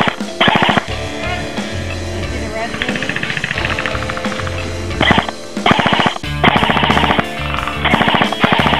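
Airsoft guns fire during an outdoor battle, loud rapid bursts of full-auto shots close by, broken by short pauses, with voices in the background.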